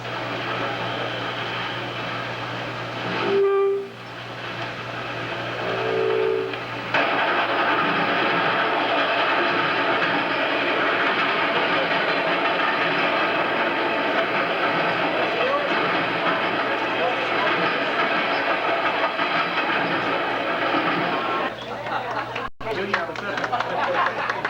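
Train sounds play from an old phonograph train record, a steady rumbling rail noise running for most of the stretch as a broad continuous roar, with some crowd or room sound underneath.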